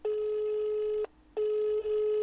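A telephone ringback tone sounds twice, each a steady electronic burr about a second long with a short pause between, no talking.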